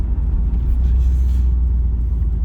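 Steady low rumble of a Corvette C3 driving, heard from inside the cabin with a passenger aboard after new bushings and shock absorbers were fitted, a continuous engine and road drone without talk.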